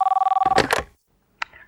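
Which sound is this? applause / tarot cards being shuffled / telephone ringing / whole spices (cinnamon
telephone ringing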